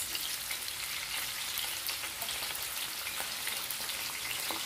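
Seven pieces of fish fry in hot oil, giving a dense, continuous close sizzle with crackling pops and no voices.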